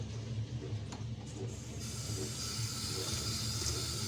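Running tap water rinses dishes at a kitchen sink, a steady hissing spray with faint clinks underneath, continuous and close throughout.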